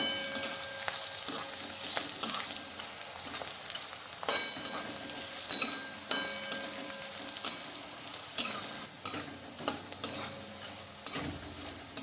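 Sliced onions and peanuts sizzle in a pan while being stirred, a continuous moderate frying hiss broken by frequent light clicks and scrapes of the spoon against the pan.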